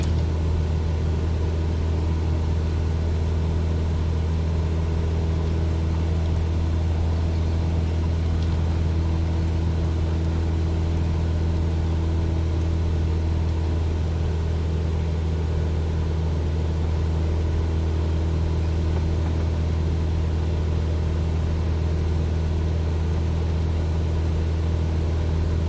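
A steady, loud drone of a simulated single-engine propeller aircraft climbing at 2,400 RPM with FSRealistic sound effects, a constant low rumble with firm tonal hum and no breaks throughout.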